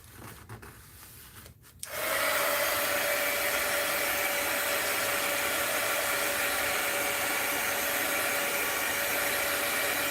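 A hair dryer switches on after a few faint rustles and then blows steadily and loudly for several seconds, drying a mixed-media art journal page.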